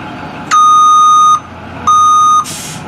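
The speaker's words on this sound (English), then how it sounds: "Next is to check the 3 beeps. Those are the brake lights, the backup lights, and the backup beeper." A truck's backup beeper sounds loud and close during a pre-trip inspection, giving two long steady electronic tones separated by a short gap, followed by a brief burst of hiss.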